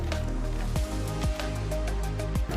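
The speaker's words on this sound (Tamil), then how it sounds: "ஆறுனதுக்கப்புறமா மிக்சியில் நம்ம வேக வச்ச எல்லாத்தையும் சேர்த்துடுறேன் தண்ணியோட" Boiled tomatoes and their cooking water are tipped into a mixer jar, producing a few wet squishing plops and drips over a steady background tone.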